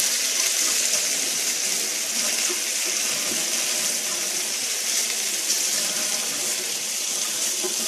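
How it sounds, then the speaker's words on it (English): A kitchen tap runs in a steady, continuous gush into a sink during handwashing, close and unbroken for several seconds. "Alright, I've got to wash my hands quickly."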